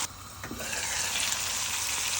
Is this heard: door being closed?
no